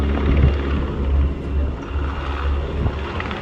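A pair of Czech Air Force Mi-171 Sokol helicopters flying formation at an air show, a loud continuous rotor and turbine roar close overhead, steady with slight swells.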